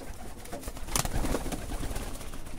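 Polish Widyn breeding pigeons cooing inside a cage, several low throaty coos overlapping in a steady rhythm, close and moderately loud with some rustling and background noise.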